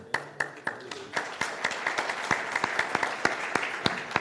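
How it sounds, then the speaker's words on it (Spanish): An audience at a public event in Guadalajara claps in a sustained round of applause, sharp individual claps standing out over a dense, moderately distant patter. "¿le aplauden porque habló poquito o por lo que dijo?"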